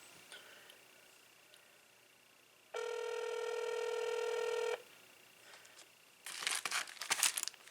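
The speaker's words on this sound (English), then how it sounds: "So I'll put the call device on speaker so you can hear when it connects to the network." An older cell phone on speakerphone connects its call, giving a steady two-second burst of dial tones over quiet background hiss, then crinkling of aluminum foil near the microphone.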